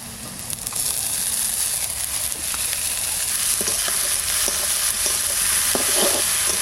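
Garlic frying in a pan as it is stirred: a loud, steady sizzle runs throughout, broken by soft scraping and occasional clicks of the utensil, with no one talking.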